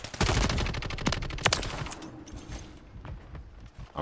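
Rapid bursts of RAM-7 SMG fire in Call of Duty: Modern Warfare III crack out in quick successive volleys, loud at first and then thinning into scattered shots.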